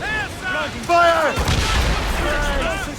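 Ship cannons firing in the video game Assassin's Creed Rogue, loud heavy booms at close range rolling into a sustained low rumble, with shouted voices over the battle.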